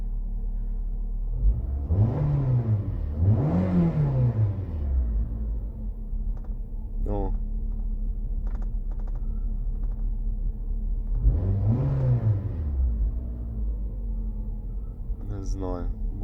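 A Nissan Rogue engine idles cold with a steady low rumble and a slight shake, swelling into a few rising revs, while someone talks over it.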